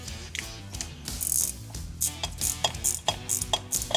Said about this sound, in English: all we have to do is loosen the bolt on the alternator bracket here